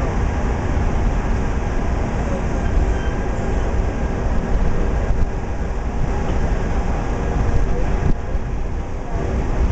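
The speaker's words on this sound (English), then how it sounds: "please remain seated until the tram comes to a complete stop" Steady, loud rumble of the Disneyland Mickey and Friends parking tram rolling along, continuous noisy drone throughout with a few faint clicks, no clear halt audible.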